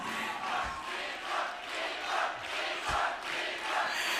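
An awards ceremony audience applauding at a schoolboy cricketer of the year event, a sustained wash of clapping from a large crowd in a hall, fairly distant and even.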